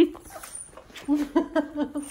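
A puppy whimpers in short, high, squeaky whines in an irregular series, fairly faint and close, with soft background sounds.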